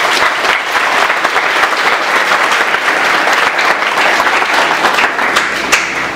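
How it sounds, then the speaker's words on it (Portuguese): An audience at a taekwondo event gives a loud, steady round of dense applause lasting several seconds, with no speech over it. "Salva de palmas."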